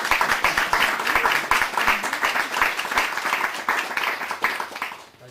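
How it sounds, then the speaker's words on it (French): Audience applause breaks out at a Quebec history lecture to honor a career award winner, a dense steady wash of many hands clapping that fades out near the end. "on peut l'applaudir"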